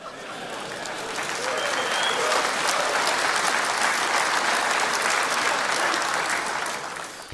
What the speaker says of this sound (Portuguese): eu não sei por que vocês estão batendo palmas